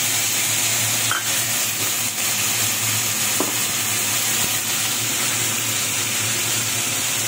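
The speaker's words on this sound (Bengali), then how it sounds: "জিরে, শুকনো লঙ্কা, টমেটো, আদা বাটা দিয়ে দিলাম তেলের মধ্যে" Cumin, dried chillies, tomato and ginger paste frying in hot oil for a Bengali fish curry, a dense, continuous sizzle with a few faint clicks, close-up and even throughout, no voices.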